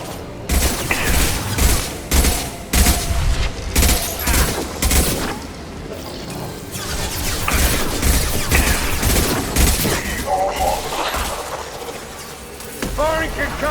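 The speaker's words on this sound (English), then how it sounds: "Hostile fire." Gunfire in Mass Effect 2 Legendary Edition: rapid bursts of loud, close automatic shots in dense clusters, then a stretch of lighter scattered fire and mechanical clatter, with game voices speaking over parts of it.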